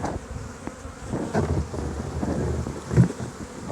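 A dense, low buzzing of many honeybees in an opened hive fills the space, steady and close, with a few soft knocks.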